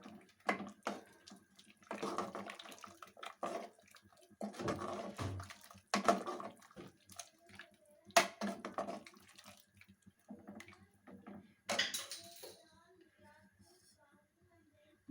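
Tamarind water poured into a pot of sambar, a soft splashing pour with intermittent bursts of liquid and clatter, heard up close in a quiet kitchen.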